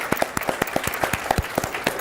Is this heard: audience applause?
yes